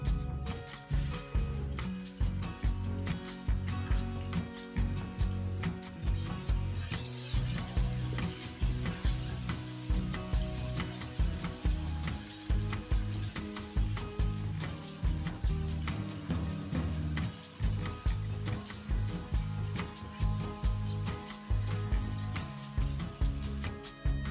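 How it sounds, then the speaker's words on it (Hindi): Steady sizzling of garlic frying in hot ghee, a continuous crackling hiss with occasional stirring clatter, close and without voices. "ये हमारा लहसुन फ्राई हो चुका है"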